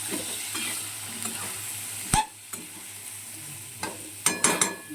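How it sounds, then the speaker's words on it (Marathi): Chopped mixed vegetables are stirred in a hot pan, giving a steady low sizzle broken by a few sharp spatula scrapes and clacks, one loud knock near the middle and a cluster of clatters toward the end, with no voices. "चिरलेल्या भाज्या मी ह्याच्यात टाकते सगळ्या. चांगल्या असं हलवून घ्यायच्या, मिक्स करायच्या चांगलं."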